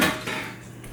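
Strawberry cake batter with eggs and oil being mixed in a bowl: a busy scraping, clinking clatter of utensil against bowl, close and fairly steady through the moment, with no voices.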